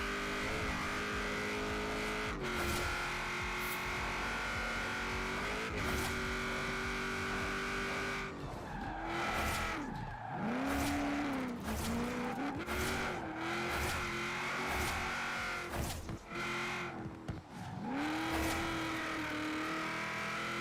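A race car in Forza Horizon 4 drifts with long, wavering tire squeals over a revving, shifting engine, the pitch swooping up and down as it slides, loud and continuous with brief breaks.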